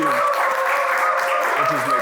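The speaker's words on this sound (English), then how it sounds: "Applaud him." An audience at a school event applauds a welcomed guest with brisk, sustained clapping, loud and close, while a voice speaks over it.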